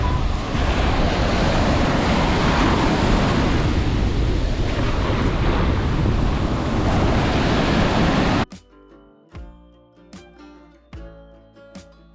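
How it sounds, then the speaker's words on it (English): Ocean surf rolls onto a beach as a steady, loud wash of broadband noise mixed with wind buffeting the microphone for about eight seconds, then cuts abruptly to quiet music. "hear the ocean as usual"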